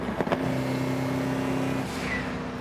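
A car on a hot lap at the Laguna Seca race track: a loud, steady engine drone holding pitch and then shifting higher as it pulls away, with no voices.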